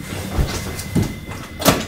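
A locked closet door being tugged and rattled from inside, giving three dull thumping knocks spaced about half a second apart, close and moderately loud with no talk.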